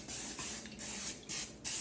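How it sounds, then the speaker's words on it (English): Release spray from an aerosol can hisses into a non-stick baking pan in four short bursts separated by brief pauses, close and fairly soft, with no talking. "Now we're going to spray our pan."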